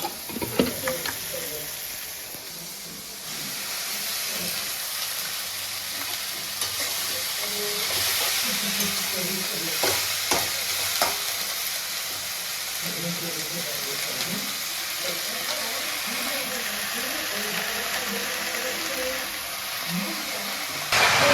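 Tomatoes frying in oil in a home Bengali kitchen, with greens added to the pan, give a steady sizzle and frying hiss that runs throughout, with stirring and scraping sounds and a few brief louder bursts partway through.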